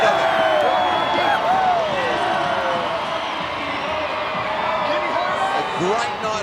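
A rugby league stadium crowd at the Indigenous All Stars versus NRL All Stars night cheers and buzzes continuously, with whistles and shouts rising through a broad roar, under a commentator's voice.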